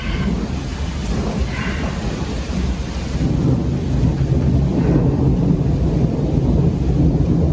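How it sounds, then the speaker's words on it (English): Loud, sustained rumbling thunder rolls through steady rain, a deep continuous roar that swells slightly louder in the second half with no voices present. "Here comes the thunder."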